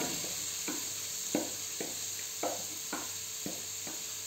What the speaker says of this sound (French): Je vais mettre les oignons à revenir.